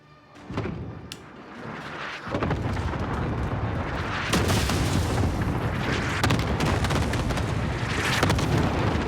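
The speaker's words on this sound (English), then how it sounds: "Allied cluster strike inbound." Cluster strike in a video game: a dense run of booming explosions that starts with a few thuds and builds into a continuous loud, rumbling barrage with crackling blasts, with no voices.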